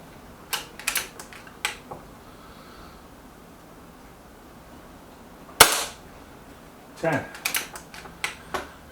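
An EB Arms XV2 fires one sharp, loud shot midway at a target test, surrounded by scattered lighter clicks and handling taps before and after.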